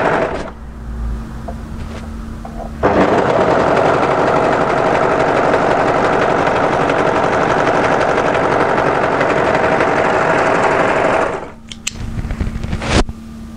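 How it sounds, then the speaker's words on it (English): Overlocker running steadily along the edge of a dress seam for about nine seconds, a dense rapid mechanical whir close up, with brief stop-start bursts before and after. "overlock tidy the edge with your overlocker"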